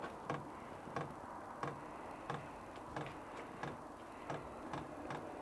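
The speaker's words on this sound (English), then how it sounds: "You might be able to hear the pump ticking there." The fuel pump on a Banggood 12/240 volt diesel car parking heater ticks faintly in a steady, evenly spaced rhythm of about two clicks per second over a continuous hum.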